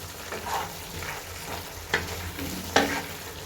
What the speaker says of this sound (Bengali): এবার আমি ভালো করে নেড়ে মিশিয়ে দিচ্ছি।